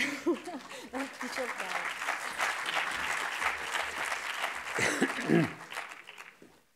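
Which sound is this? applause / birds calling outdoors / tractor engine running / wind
applause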